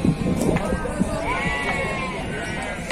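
Sheep bleat at an outdoor livestock market, several drawn-out calls rising over the busy crowd noise, while people talk nearby throughout.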